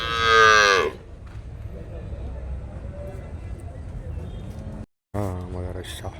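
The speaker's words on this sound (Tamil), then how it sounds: "கிருஷ்ணகிரி குந்தாரப்பள்ளி மாட்டு சந்தை" Cattle at the Kundarapalli cattle market in Krishnagiri give a loud, close, drawn-out moo, then a second moo follows after a crowd murmur and a brief gap.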